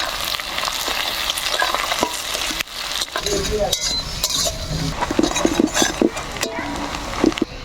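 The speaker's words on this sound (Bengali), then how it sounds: "আমার কিন্তু পেঁয়াজগুলা লাল লাল করে একদম ভাজা হয়ে গেল" Chopped onions fry in hot oil with bay leaves and whole garam masala, a steady close sizzle broken by stirring scrapes and a few clinks of a utensil against the pan.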